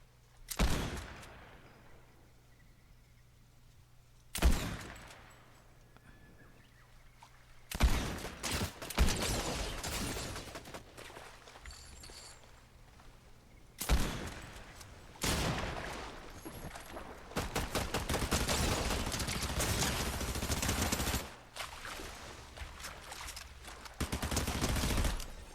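Submachine gun bursts in a video game fire in loud rapid clusters separated by quiet gaps, with longer sustained sprays of shots later on and sharp single reports at the start.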